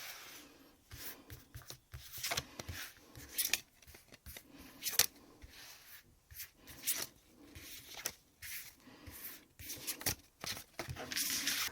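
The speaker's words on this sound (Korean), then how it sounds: "이렇게 카드를 뽑아봤는데요" Tarot cards are shuffled and drawn by hand, close soft rustling and sliding strokes coming in uneven bursts with short pauses between them.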